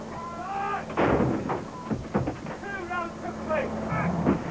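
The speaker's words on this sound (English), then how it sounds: "The howitzers joined in, firing over a 2-hour period, targeting Iraqi infantry dug in 12 miles away." Howitzer artillery fires shells at entrenched infantry during the 1991 Gulf War, several booming blasts mixed with a voice narrating over them.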